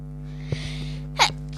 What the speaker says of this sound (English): Nearly gonna sneeze.